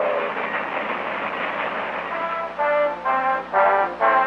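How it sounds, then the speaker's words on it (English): Diesel-powered passenger train rumbling steadily, then a loud horn sounding in several blasts toward the end, fairly close and with no talk. "the most up-to-date diesel-powered trains, offering luxurious comfort for sleeping and daytime travel"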